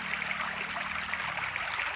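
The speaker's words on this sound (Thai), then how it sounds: "น้ำไหล" Water trickles and flows in a small stream on a drizzly morning, a steady, soft babbling with bright splashy texture, continuous and fairly close, with no voices.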